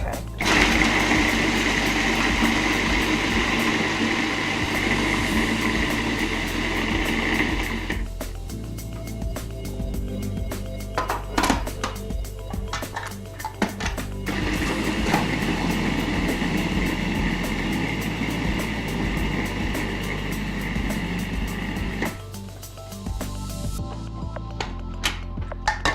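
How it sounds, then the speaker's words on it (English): A food processor pulses cauliflower into rice-sized bits, its motor whirring loud in bursts with brief dips and restarts between pulses and the rattle of chopped florets against the bowl. "we're going to pulse it until it's what they call cauliflower rice"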